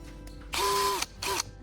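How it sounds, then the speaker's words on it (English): Two bursts of a power drill whirring as it drills a small hole in an empty aluminum soda can, a longer one then a short one, close up with a steady high-pitched motor whine. "I carefully drill a small hole in the center of this outline."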